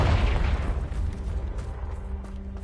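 A Confringo fire spell bursts in Hogwarts Legacy, a heavy boom at the start that rolls off into a fading rumble with scattered crackles.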